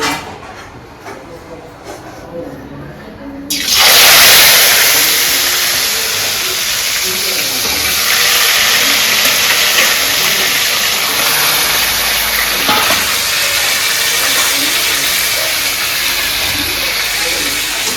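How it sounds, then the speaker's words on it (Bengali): Desi chicken pieces drop into hot oil with a sudden loud sizzling hiss that stays strong and steady throughout, while people talk over the frying. "ঠিক আছে তেল গরম হয়ে গেছে আমি মাংস দিয়ে দিচ্ছি।"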